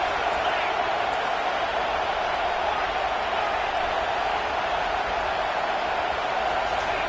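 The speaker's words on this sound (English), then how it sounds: "this crowd is turning it up a notch" A football stadium crowd roars in a dense, steady wall of noise that stays loud and continuous for the whole stretch.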